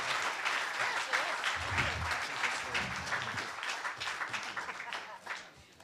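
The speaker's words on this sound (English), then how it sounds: "let's give our speakers a big round of applause" A large audience applauds the speakers at the end of a talk for municipal politicians, a dense, steady wash of many hands clapping throughout that eases off slightly toward the end.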